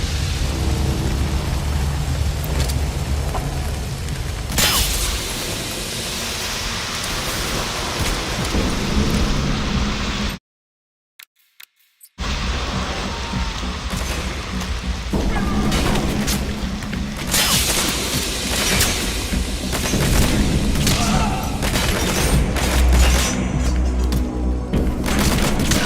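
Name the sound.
gunfire and explosions in Metal Gear Solid 5 video game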